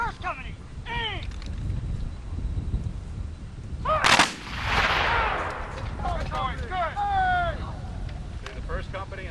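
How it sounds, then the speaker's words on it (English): Musket volley fired by company at an Iron Brigade reenactment, a loud burst of gunfire near the middle with a crackling tail, set amid shouted commands and crowd voices. "This is firing by company."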